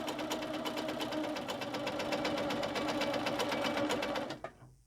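A sewing machine runs steadily while free-motion quilting along a ruler, needle down with scroll lines and hearts, a continuous loud rapid whirring of stitches that stops abruptly near the end.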